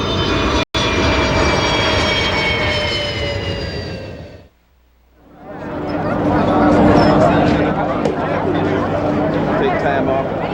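A YF-23 jet's engines roar loudly and steadily during a test taxi, with high whining tones over the rumble. The noise drops away briefly midway, then swells back to a broad, close roar while voices talk over the radio.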